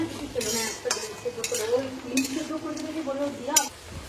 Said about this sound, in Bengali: পেঁয়াজটাকে এবার ভালো করে ভেজে নেব।